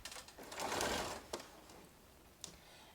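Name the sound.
sewing machine basting jacket layers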